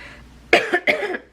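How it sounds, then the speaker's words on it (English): A woman gives two or three sharp, close coughs in quick succession, a brief throaty burst in an otherwise quiet room. "Excuse me if I have to cough a little bit"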